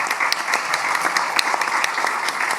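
An audience at a local and regional leaders' assembly in Valongo claps, a dense, lively round of applause with distinct individual claps near the front, steady throughout.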